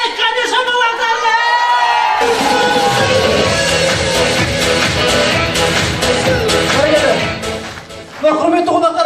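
Guests at a wedding celebration in Atyrau cheer and whoop loudly in a dense crowd roar that swells and holds, with shouting voices on top and a brief lull before the noise surges again.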